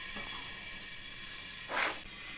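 Fish dropped into a hot pan gives a short burst of hissing near the end, over a steady background hiss.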